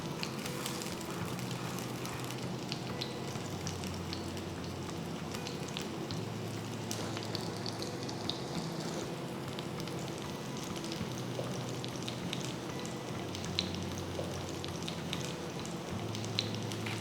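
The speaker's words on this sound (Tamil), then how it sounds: "சூடானதும் மீன் பேனில் வச்சு ஃப்ரை பண்ணுங்கள்." Sankara fish fries in hot sesame oil in a pan, a steady, dense sizzle and crackle running continuously at moderate level with no voices.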